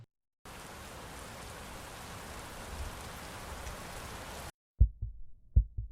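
Steady rain falls outside with an even, soft hiss for about four seconds, then cuts off abruptly and a few dull thumps follow.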